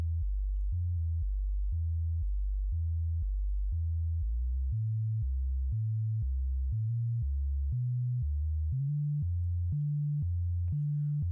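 A low, pure synth tone pulses in a steady repeating pattern of short notes, stepping between a few pitches, loud and alone with no voices.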